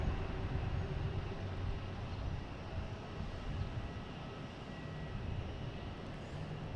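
Cape Air airplane at Boston Logan Airport, a steady low broadband rumble of engine and wind noise holding at moderate level throughout, heard from a distance with no voices.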